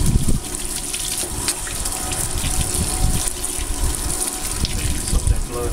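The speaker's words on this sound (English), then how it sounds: "Wash your hands. Got fish slime on it." Running water splashes steadily from a tap as hands are rinsed of catfish slime, a close, continuous gushing with uneven splashes throughout.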